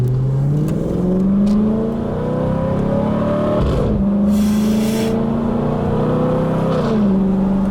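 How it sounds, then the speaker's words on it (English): A 2013 Audi R8 with its naturally aspirated V8 pulls hard from inside the cabin, rising in pitch through the gears with crisp upshifts around three and seven seconds. It is loud and continuous, and no one speaks over it. "I'm not sure when last I heard a car that upshifts so nice as this one"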